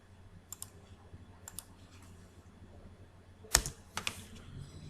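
Computer mouse clicks while drafting in CAD software, a few sharp isolated clicks spaced apart, with a louder double click near the end, over faint room hum.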